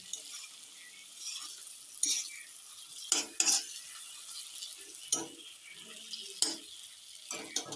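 A Bengali home-style curry, cooked down until the oil separates, being stirred in a pan with a steady sizzle and scraping spoon strokes, plus a few sharper clinks of utensil against metal; close, with no talk.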